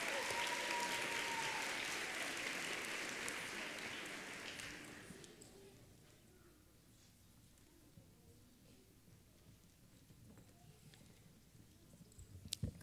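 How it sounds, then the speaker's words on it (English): Applause at an elementary school awards day for student award winners, a dense, steady round of clapping for about five seconds that tapers off into quiet room sound with a few scattered claps and noises near the end. "give these students a round of applause"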